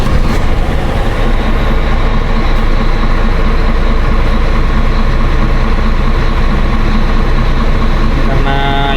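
A Scania P410 truck with an automatic transmission fault sits with its engine running, giving a loud, steady low rumble that stays constant throughout, with faint voices nearby.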